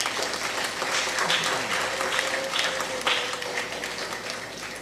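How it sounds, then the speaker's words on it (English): A church congregation at a Sunday honouree service gives a round of applause, a moderately quiet, steady patter of many hands clapping in a large room, with a faint voice mixed in. "let's celebrate them again with a rousing round of applause"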